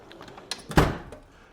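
A toolbox wrench drawer slides: a couple of light clicks, then one sharp thunk as the drawer runs and stops, close and brief, fading into quiet room noise.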